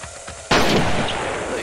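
A grenade goes off in Men of War: Assault Squad 2, a WW2 battle game: one sudden loud blast about half a second in, after quiet background, followed by a long roaring decay that stays strong.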